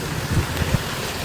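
Sudden rain falls in Sankanai, Jaffna as a dense, constant wash of hiss, with a few soft low thumps beneath it over a brief moment.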